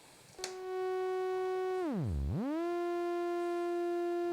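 A bright, buzzy synthesizer tone from a looping function generator envelope holds steady, then sweeps sharply down in pitch and glides back up to the same note, alone and clean.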